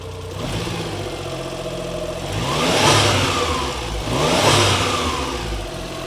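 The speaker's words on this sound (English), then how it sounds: "You can kind of hear the turbo there and the little blow off that it makes." Warmed-up Suzuki Cappuccino turbo engine with an aftermarket exhaust revving twice, each rev rising into a whooshing turbo spool and a light blow-off hiss before settling back to idle, close and loud.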